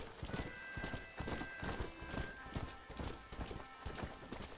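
Horse hooves clip-clop in a steady, even rhythm as a horse travels over ground in the video game Red Dead Redemption, loud and close throughout with no voices.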